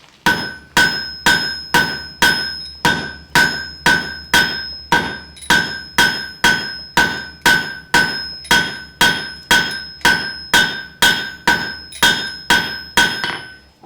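A blacksmith hammers hot steel to draw and taper a drift pin in a long, steady run of ringing metallic blows, about two per second, loud and close with no talk.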